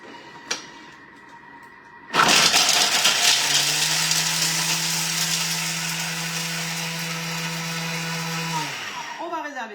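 A food processor on speed 10 chops parmesan with lemon zest, starting abruptly after a quick click, then roaring loud and steady for several seconds before winding down with a falling whine.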